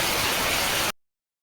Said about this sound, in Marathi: घरी आलतो तर बघा फुल पाऊस चाललेला अचानक